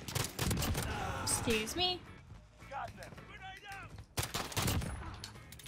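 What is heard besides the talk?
1911 pistol gunshots in the video game Call of Duty: Modern Warfare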